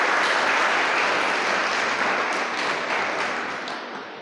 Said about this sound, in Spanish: Fuerte ese aplauso, vamos,